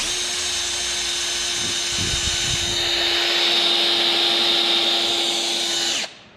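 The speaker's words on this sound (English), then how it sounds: "We're going to turn our drill backwards, so we're turning counterclockwise." A power drill, run counterclockwise to prime the oil pump of a Ford 428 FE engine filled with straight 30-weight oil, whirs steadily and loudly for several seconds, its pitch rising slightly under load before it abruptly stops.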